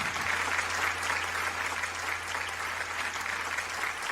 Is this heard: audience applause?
yes